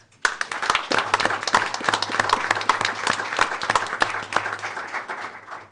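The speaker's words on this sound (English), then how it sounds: "Round of applause" An audience at a school board meeting applauds a fifth-place architectural drafting award winner, a dense burst of close clapping that starts abruptly, holds steady for several seconds and then tapers off.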